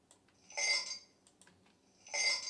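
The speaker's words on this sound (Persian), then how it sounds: "صدای یخ هم بهش اضافه میکنم که خیلی طبیعی تر بشه" Ice cubes clink against glass in two short bright bursts, close and quiet, with faint light ticks between them.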